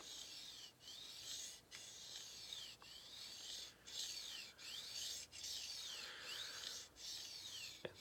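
A tracker style knife is drawn over a diamond sharpener in quiet, evenly spaced rasping strokes, roughly one per second, close and faint with no talk.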